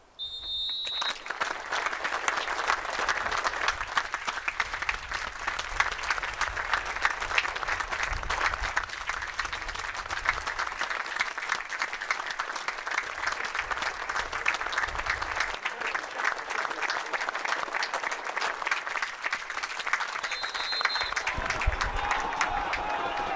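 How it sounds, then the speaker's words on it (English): A football stadium crowd holds a minute's applause before a match, sustained dense clapping rolling on evenly throughout, with brief high electronic tones near the start and end. "The minute's applause been observed, and impeccable it was by everybody as well."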